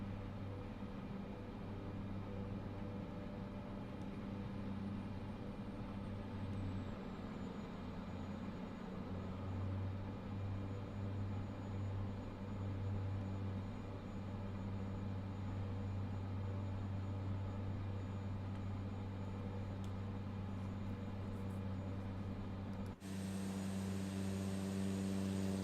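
An H225 helicopter landing in Microsoft Flight Simulator 2024, a continuous droning turbine and rotor hum that holds steady throughout, shifting tone briefly near the end.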